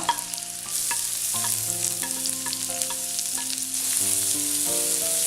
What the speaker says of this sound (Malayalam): അപ്പോൾ വെളുത്തുള്ളി ഒന്ന് മൂത്ത് വരണം. പച്ചമുളകും കൂടെ ചേർക്കണേന്.